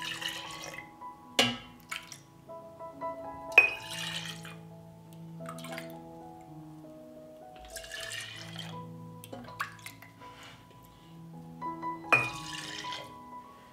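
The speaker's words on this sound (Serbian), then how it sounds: "U svaku teglu sipat ću po kutlaču mleka." Milk is ladled into glass jars, with soft pouring and dripping broken by several distinct clinks of the ladle against glass, set against a quiet kitchen hum.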